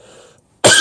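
A single sharp, loud cough bursts out abruptly after a brief quiet pause, close to the microphone.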